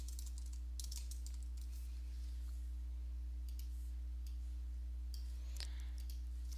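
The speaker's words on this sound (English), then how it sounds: "I'm going to click and start typing." Computer keyboard being typed on in quick, light clicking bursts, faint and close, over a constant low electrical hum, with no talking.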